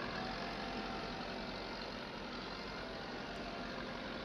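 A tractor engine in Farming Simulator 22 runs in a steady, dense drone at constant speed, loud and unbroken throughout with no talking.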